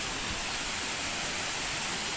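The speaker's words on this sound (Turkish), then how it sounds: "Burada büyük bir şelale oluşturmuş." Waterfall formed by flood water in Giresun, a steady broadband roar of rushing water, loud and unbroken throughout with no voices.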